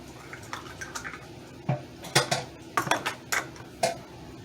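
Flour and ingredients going into a bowl for stromboli dough, with soft scrapes and a series of clinks of a measuring cup or utensil against the bowl, close and moderately loud, no talking.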